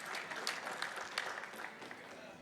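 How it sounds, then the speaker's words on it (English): Faint audience applause at a Games Done Quick speedrun marathon after a world-record Eagle Island run, a thin patter of distant clapping with a voice talking over it. "let's get another round of applause for Mr. Dino"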